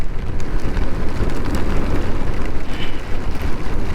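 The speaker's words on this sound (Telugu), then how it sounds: "బాగా జోరుగా పడుతుంది వర్షం." Heavy rain pours down steadily and loudly at a hilltop homestay in Kaginahare, a dense, continuous wash of noise with no let-up.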